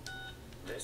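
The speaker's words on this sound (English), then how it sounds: "That's a loud-ass phone to hear it all the way over there." A telephone in the video game Everybody's Gone To The Rapture gives off brief electronic ringing tones, faint and somewhat distant over a low background hum.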